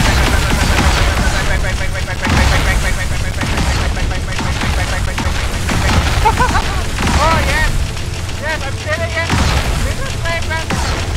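Defense turret firing in the video game Tower of Fantasy, a loud, continuous barrage of rapid shots and heavy booms layered with dense battle effects and music, with no pause across the whole stretch.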